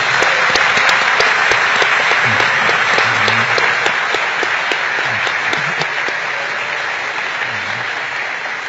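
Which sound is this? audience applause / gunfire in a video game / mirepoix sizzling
audience applause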